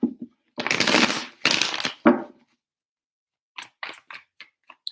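Tarot cards are shuffled in a few loud riffling bursts close by, followed by softer scattered taps and flicks of cards, with no talk.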